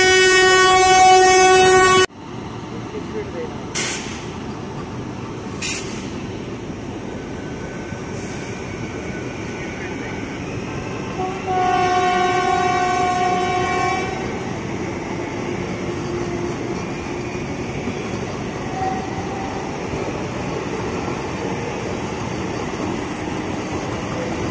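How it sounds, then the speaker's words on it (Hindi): Vande Bharat Express trains race past near Phagwara, opening with a loud horn blast before a sharp drop, then a continuous rumble and clatter of wheels with a second horn sounding midway as the cars roar by close. "अभी हम दो ट्रेनों में रेस लगवाने वाले हैं"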